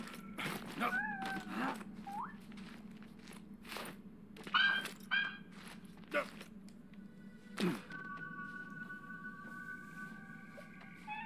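A house cat meows several times close by, with short rising calls in the first few seconds and a few more later, over a steady hum from the game in a Journey to the Savage Planet session.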